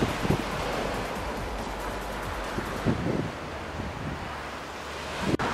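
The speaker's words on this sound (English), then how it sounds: "The waves." Ocean waves crash and wash onto the shore at Scarborough, a loud continuous roar of surf mixed with strong wind buffeting the microphone.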